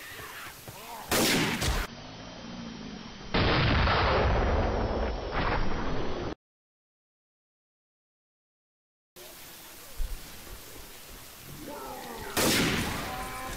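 Gunfire in the video game Left 4 Dead 2, with dense bursts of loud, close shooting that break off into a short silent gap before resuming, among other game noise.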